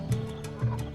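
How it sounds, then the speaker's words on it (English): Penguins calling on an Antarctic beach, a pair of short nasal, clucking honks close by over a dense background hubbub of a crowded colony. "There's penguins all over."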